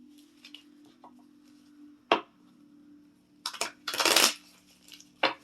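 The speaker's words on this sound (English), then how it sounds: "I am going to shuffle it so that it's ready." A Moonology oracle card deck is shuffled nearby: scattered light clicks and taps, then a dense riffling burst of cards flicking together, ending with a final sharp snap. Quiet otherwise, with a faint steady hum underneath and no talking.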